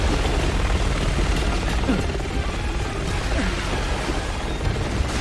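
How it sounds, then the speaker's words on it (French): Rotor thrum from a hostile helicopter in Resident Evil 6, loud and constant, with faint crashes and rumbles of combat mixed into the steady wash of noise. "Cet hélico va bientôt nous tirer dessus!"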